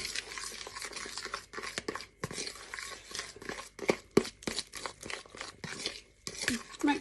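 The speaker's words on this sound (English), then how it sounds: "Mix that into the batter." Cheese is being stirred into a keto sandwich batter in a home kitchen, with soft, irregular scraping and squelching of utensil against bowl, fairly quiet and close.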